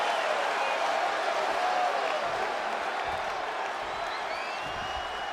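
A video-game wrestling arena crowd in WWE 2K24 roars in a dense, continuous wash of cheering and applause that holds steady throughout, then eases slightly toward the end.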